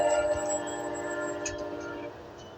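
A locomotive with an FD-70 Ace horn on a moving train at night, heard as a steady, fairly distant tonal drone with layered harmonics, sustained and slowly fading under rumbling rail noise.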